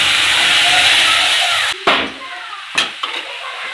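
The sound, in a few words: yogurt and gram flour batter poured into hot tempering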